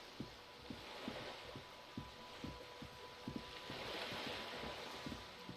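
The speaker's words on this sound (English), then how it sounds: "Oh, the waves sound lovely at this time of night." Ocean waves at night in Disco Elysium: soft surf and wind beneath a faint, regular series of low knocking thuds, quiet and continuous with no voices.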